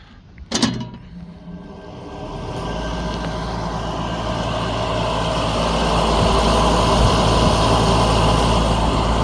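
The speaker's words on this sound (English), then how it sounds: "This motor is making a very loud noise" A condenser fan motor on a Lennox rooftop package unit with a faulty, noisy motor: a sharp click, then a loud droning roar that spins up and keeps building into a steady, rumbling whir, close by with no talking.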